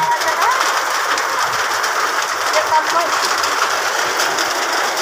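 Hail falling outdoors, a dense, steady patter and hiss of pellets striking the ground and nearby surfaces, loud and continuous from start to finish with no break.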